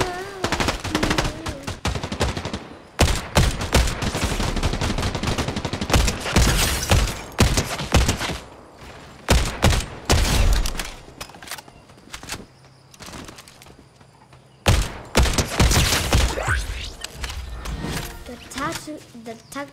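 Tactical DMR fire in Fortnite, bursts of rapid gunshots in clusters separated by short lulls, loud and close, alongside other game noise and a voice talking.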